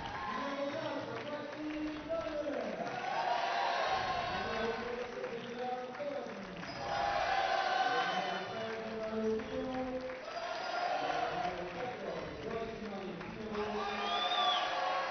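Crowd cheering and applause fill a volleyball final between Switzerland and Italy as the players are presented, a dense, steady roar swelling in waves throughout.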